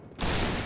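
Gunfire from the Point Blank shooter game, a sudden loud burst that sets in about a fifth of a second in and holds dense and sustained for the rest of the brief moment, with no voices over it.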